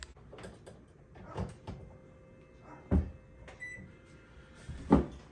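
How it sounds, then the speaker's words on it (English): A Kenmore microwave door is swung open and shut a couple of times, giving a series of close, sharp clunks and latch clicks with quiet mechanical rattles between them and no talking. "Open and close your door a couple of times to make sure it's lined up properly"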